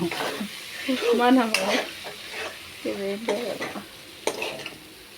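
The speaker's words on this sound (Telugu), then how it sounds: "టమాటా ఇది మంచిగా మిక్స్ చేసుకోండి బాగా కలపండి" Tomatoes stirred in a sizzling frying pan while cooking Telangana-style dal: a spoon scrapes and turns the mixture over a steady close-up frying hiss, with a voice speaking briefly over it.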